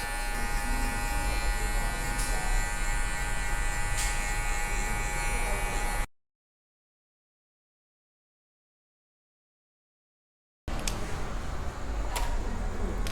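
An electric hair clipper fitted with a number one guard buzzes steadily and close while cutting a mid fade at a barber's, its drone broken by a silent gap before resuming.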